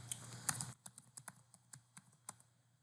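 Quiet typing on a computer keyboard while coding in Python, a quick burst of keystrokes followed by about a dozen separate, evenly spaced clicks, close up with no talking.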